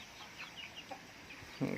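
Two-month-old chickens free-ranging outside a coop on a farm cluck softly in scattered calls against low outdoor background, faint and slightly distant, with a louder burst at the end.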